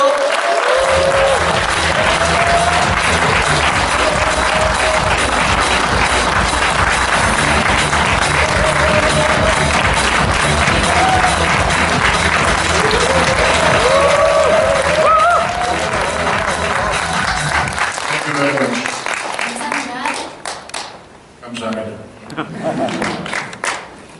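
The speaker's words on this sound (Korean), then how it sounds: "큰 박수 부탁드릴게요" Loud, sustained clapping from a large crowd fills the room, with voices mixed in, then thins and fades toward the end.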